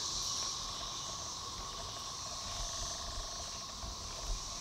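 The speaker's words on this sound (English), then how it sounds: "it's just littered with cicadas. No, they're everywhere." Cicadas swarming outdoors in East Tennessee, a steady high-pitched buzzing drone that fills the scene continuously at moderate level, with faint low rumble and wind beneath and no talking.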